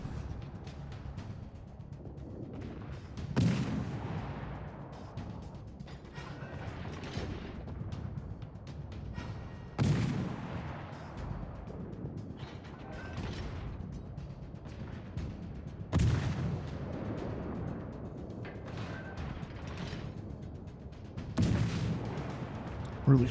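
Naval battleship guns fire in a video game, with four heavy booming salvos spaced about six seconds apart, each followed by a rumbling decay over a low background.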